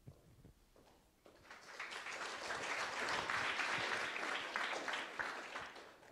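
A lecture audience bursts into applause, starting softly, swelling into a full, steady roar of clapping, then easing off slightly toward the end.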